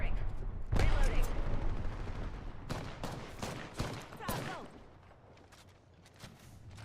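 Gunfire in a video game arrives in several loud bursts, a heavy blast near the start and then rapid volleys, with game voices and radio chatter mixed in.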